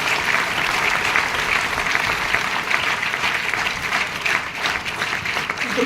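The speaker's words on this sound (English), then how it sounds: "Can I have a round of applause for them?" A steady, dense round of applause from a large audience at a talk honouring the army, loud and continuous throughout with no pause.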